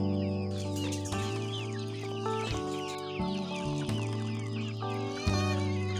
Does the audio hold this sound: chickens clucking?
yes